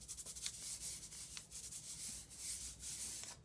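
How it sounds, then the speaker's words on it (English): Kinesiology tape being rubbed down onto a knee with its torn-off backing paper, a soft, steady papery rubbing in quick repeated strokes, close and faint, with no talking. "we take the backing we tore off with the printed side, we're just going to rub the tape down"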